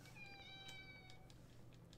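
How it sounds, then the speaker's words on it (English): A cat meows repeatedly in high, tonal calls, each cry fairly faint and set against a steady low hum, with no talk over it. "Kitty!"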